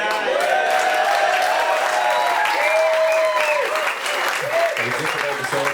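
Audience applause for a musician at a band concert at Burwell Bash 2023, loud and continuous with lingering instrument tones and some voices over the clapping.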